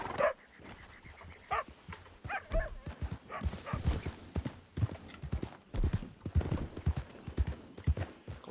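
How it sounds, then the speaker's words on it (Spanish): Horse hooves clip-clop steadily in the RedM video game as a horse approaches, a continuous rhythmic clatter of hoofbeats over ambient outdoor game sound, with dog-like yips mixed in early. "¿Qué viene un caballo allí?"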